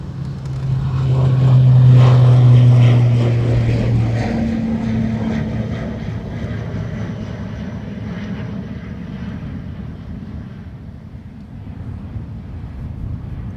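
An airplane landing on runway 28 right at Dublin Airport: a loud engine roar swells near the start, then settles into a long, steady rumbling wash of engine and runway noise that slowly fades.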